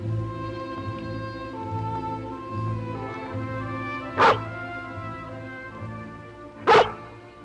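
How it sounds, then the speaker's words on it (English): Cartoon collie barking in a dark wood, two short sharp barks several seconds apart over a steady hum of background music. "Oh, if it were Uncle Petrie, she wouldn't have barked"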